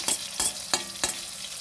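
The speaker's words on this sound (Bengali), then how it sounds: "এবার পটল ভাজা হয়ে গেছে, আর ভাজবো না, এরকম থাকবে" Pointed gourd (potol) pieces frying in a pan: a steady soft sizzle with four scraping stirs of the spatula at roughly even intervals, close and fairly quiet, with no voices.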